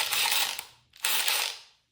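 An impact driver in a beginner's tool demonstration fires two short, loud rattling bursts separated by a brief pause, with no one talking.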